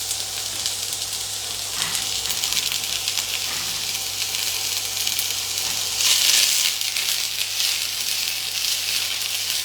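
Onion frying in hot oil in a home kitchen, a continuous bright sizzle and crackle that holds steady throughout and swells briefly partway through, with no talking.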